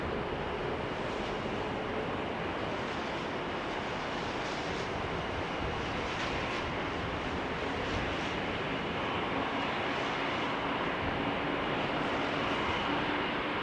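A Saudia airliner arriving from Jeddah lands at a showery Amsterdam Schiphol, its engines a continuous loud, broad roar throughout with a faint rumble of rain and wind.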